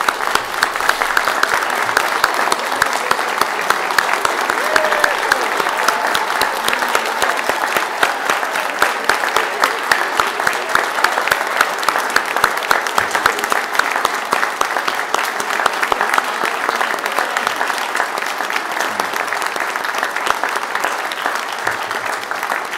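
An audience at a graduation ceremony applauds the graduates in sustained, dense, loud clapping that holds steady from start to finish without letting up.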